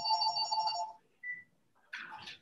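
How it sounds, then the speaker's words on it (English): A mobile phone rings off camera during a rum cocktail-making session: a bright, loud, harmonic ringtone lasting about a second, then a brief faint chirp and a burst of rustling noise. "I was off camera there for a minute before Will's phone rang"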